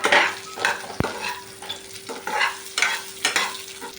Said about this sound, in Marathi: भाजण्यासाठी आता त्याच्यामध्ये एक मोठा कांदा कापलेला आहे तो भाजून घेऊ थोडंसं